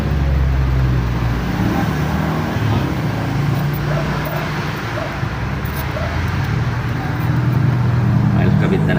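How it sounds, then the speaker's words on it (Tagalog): Heavy roadside traffic rumbles loud and close as many vehicles pass along a street beside a rubber bushing fabrication workspace, forming a constant low drone with no pauses. "Traffic kasi. Maraming sakyan."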